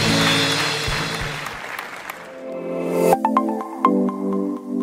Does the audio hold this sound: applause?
yes